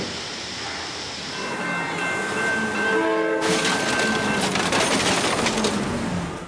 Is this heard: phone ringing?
no